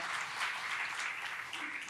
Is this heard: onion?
no